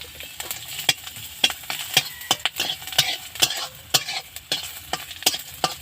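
Whole coriander seeds crackle and spit in a little hot oil, sharp irregular pops scattered over a steady close sizzle with no voices.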